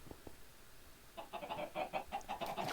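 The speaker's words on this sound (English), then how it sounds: "you have all of these chickens, which are laying eggs" Minecraft chickens clucking on a farm where they lay eggs, a few soft clucks at first, then a denser run of repeated clucks and chirps growing louder toward the end.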